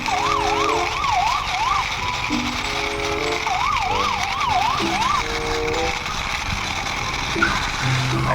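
A toy police car siren, white, black and silver, wails alone in a steady two-tone warble, repeating several times over a continuous electronic tone with some plastic clunks.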